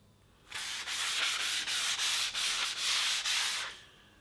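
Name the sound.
wet sanding old finish off aluminum with 220-grit sandpaper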